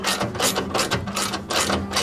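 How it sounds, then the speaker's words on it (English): Ratchet wrench tightening bolts on a fuel tank guard, giving a loud, steady clicking of the pawl in repeated bursts of rapid strokes, close up and with no talk. "I bet I've got the ratchet the wrong way."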